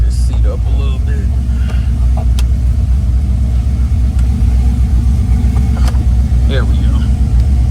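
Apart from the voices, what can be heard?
1978 Oldsmobile Cutlass engine running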